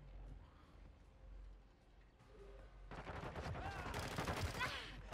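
Rapid automatic rifle fire from a TAQ-56 in a ranked shooter video game bursts out in the last two seconds after a quieter stretch, and the overall level stays low.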